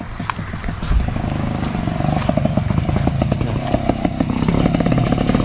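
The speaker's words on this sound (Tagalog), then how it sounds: "Yan, may dadaan na motor." Motorcycle on a slippery wooden detour road near a landslide, its engine rattling and revving loudly up close in a rapid pulsing chatter that builds as it passes.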